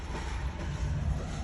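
Stillwater Central railroad engines haul a long train past, a steady loud rumble of rolling cars and wheels filling the moment with no talk.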